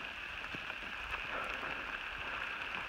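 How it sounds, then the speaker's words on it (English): Steady rain pattering on a tent on the Appalachian Trail, a dense continuous hiss with scattered closer drops tapping the fabric, moderately quiet and with no talking. "I don't care if it is going to rain. And as you can see, rain it did."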